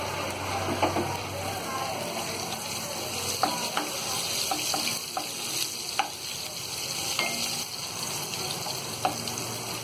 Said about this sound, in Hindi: इसी में हम ये हरी मिर्च डाल देंगे।